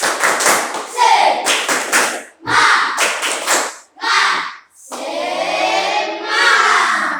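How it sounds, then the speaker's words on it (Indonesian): A class of schoolchildren performs a rhythmic spirit clap during an ice-breaking moment in a classroom: several bursts of quick, patterned group claps separated by short pauses, followed by children's voices chanting together near the end. "Ayo kita tepuk tangan, semangat dulu ya."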